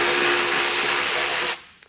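An electric ratchet loosens a 10 mm bolt with a loud, close, steady high-pitched buzzing whir lasting about a second and a half before cutting off, followed by a faint click or two and no voices.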